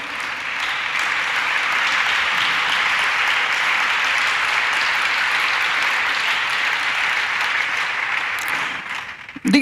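Louder, fuller applause rises from a church congregation, a thick continuous roar of many clapping hands held at an even level for nearly ten seconds before tapering off abruptly at the end.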